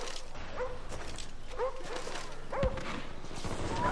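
Attack dogs in Black Ops multiplayer barking and yelping in short repeated bursts roughly once a second, over steady game noise and gunfire.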